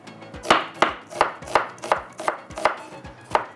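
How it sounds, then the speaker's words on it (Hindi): A knife slices onions on a cutting board in a kitchen, giving about nine crisp, evenly spaced chops, loud and close, with no talking. "प्याज को स्लाइस में कटिंग करते हैं।"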